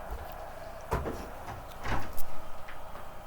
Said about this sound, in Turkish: Aç kapıyı.